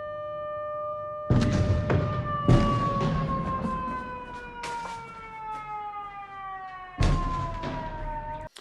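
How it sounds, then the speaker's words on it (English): Several car alarms wail together in a parking lot after an explosion, steady electronic tones sliding slowly downward and loud throughout, broken by sharp thumps near the start, in the middle and toward the end. "all the car alarms in this parking lot start going off"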